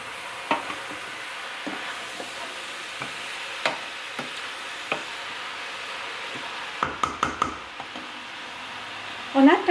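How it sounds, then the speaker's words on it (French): Green beans sautéing in a pan with meat for a stew: a soft, continuous sizzle broken by repeated light stirring clatters and taps, growing busier near the end. "faire sauter les haricots jusqu'à que juste pour prendre un petit peu de couleur"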